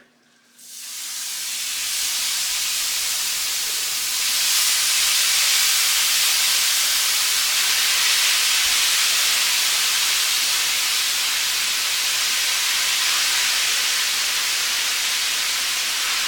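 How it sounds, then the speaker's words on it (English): Beef for carne asada tacos hits a hot cast iron skillet and breaks into a loud, steady sizzle that rises within the first second and holds unbroken, a dense hiss with no talking. "I got my cast iron skillet hot. I'm going to go ahead and add all this beef in here."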